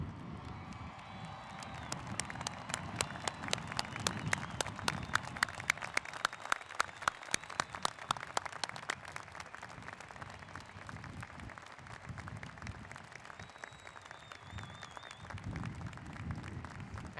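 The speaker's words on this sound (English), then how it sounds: "we all stand up, everyone, including the graduates, and applaud the first graduating class of the 21st century" A large outdoor university commencement crowd applauds a graduating class, a faint, distant mass of clapping with a rhythmic burst of sharp, close claps early on, sustained with scattered cheering and a faint whistle.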